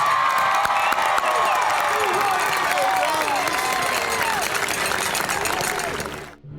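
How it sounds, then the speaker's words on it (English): Crowd at the 2013 Bardstown High School graduation applauding and cheering, dense clapping mixed with whoops and shouted cheers, sustained loudly before cutting off abruptly near the end. "Let's give them a round of applause."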